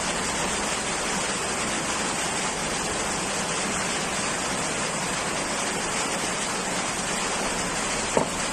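Steady, soft rainfall hissing evenly throughout, a constant wash of fine noise with no talk, one brief tap near the end.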